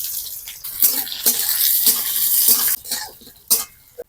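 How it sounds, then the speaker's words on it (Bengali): Onions fry in mustard oil while a spatula stirs them, giving intermittent scraping strokes and clinks over a soft, close sizzle. "এর মধ্যে পেঁয়াজ দিয়ে ভালোভাবে ভেজে নেব।"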